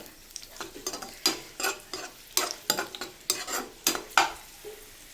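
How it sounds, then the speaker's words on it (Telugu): Raisins fry in hot ghee in a pan for jaggery rice (bellam pongali) while a spoon stirs and scrapes in repeated close strokes over a soft sizzle. "ఇలా ఫ్రై చేసుకోండి."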